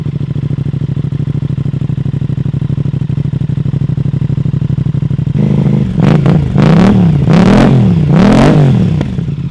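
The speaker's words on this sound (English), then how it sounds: "So now we're gonna go get a sound clip of this motorcycle." Aprilia RS660 motorcycle fitted with a full exhaust idling with a steady low rumble, then several sharp throttle blips that rise and fall in quick succession, loud and close with no talking.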